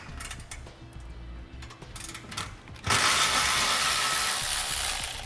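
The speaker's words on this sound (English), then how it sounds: "Use a 10mm socket." A 10mm socket on a ratchet loosening the ground wire bolt just inside the bumper of a 2018 Ford F-150. A few quiet clicking bursts come first, then a loud, steady, close ratcheting buzz runs to the end.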